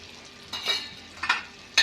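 Cumin seeds frying in hot oil in a pan, heard as a faint steady hiss broken by three short, brighter sizzling bursts, like stirring, with no talk.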